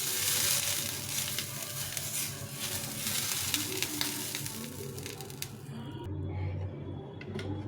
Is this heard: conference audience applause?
no